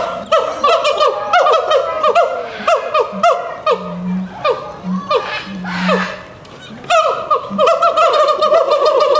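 Siamang gibbons at Oakland Zoo give loud territorial calls, a rapid series of rising and falling whoops and hoots that build and repeat, with a low booming tone underneath.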